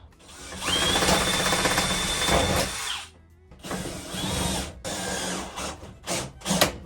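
A power drill drives a screw into a van wall while a propane heater is installed: a long, steady whirring run, a short pause, then several shorter bursts and stops, close and loud.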